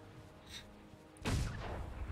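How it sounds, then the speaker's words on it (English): Cannons fire in Guild Wars 2, with one close, heavy boom that rolls into a sustained rumble after a quiet lead-in. "Okay, so fire cannons."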